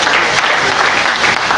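Church congregation applauding during a sermon, a dense, steady clapping that holds evenly at close range for the whole brief stretch.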